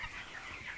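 Chickens on a poultry farm make a faint, soft murmur of clucking in a brief moment, heard at a distance within a broad background hiss.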